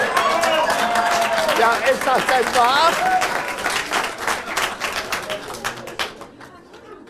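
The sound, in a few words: audience clapping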